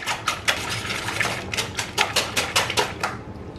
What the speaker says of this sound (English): So first you're gonna want to get your eggs all frothy.